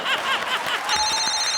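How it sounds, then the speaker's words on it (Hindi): A telephone rings in short repeated warbling electronic bursts, loud and close, with a steady tone entering partway through; no speech over it. "एक मिनट फोन आ गया अपन को."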